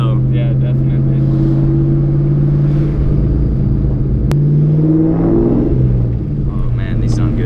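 A supercharged car with a different muffler material idles with a deep, steady exhaust drone, then climbs into a rev and settles back. It is loud and close, and people talk over it.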